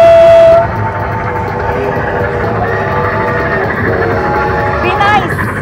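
A Midnight Express slot machine sounds its train whistle bonus effect, loud and close, a bright tone at the start followed by chugging train-style game sounds and chimes, with a voice over it.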